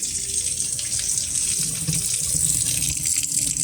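Water rushes steadily down a sink drain just cleared with a plunger, a continuous close gurgling wash of running water with no talk.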